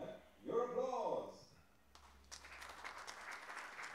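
After a voice speaks, applause from the audience at a women's 10 m air pistol shooting final starts, a moderate patter of clapping that continues to the end.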